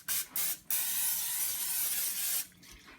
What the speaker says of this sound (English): I'm going to spray a little spray pan on the inside.